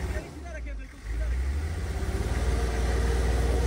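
Off-road vehicle stuck deep in mud: a low engine drone rising after a brief dip and pulsing steadily under revs, with someone talking over it.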